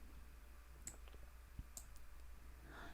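A computer mouse clicks an on-screen OK button with two faint, sharp clicks about a second apart in a quiet room, with very soft handling noise around them.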